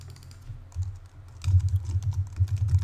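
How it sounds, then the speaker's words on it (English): Fingers type on a computer keyboard in quick, irregular clusters of close clicks, quiet at first then denser and steadier, with no talk. "Now this one, I'm going to type in crystal necklace."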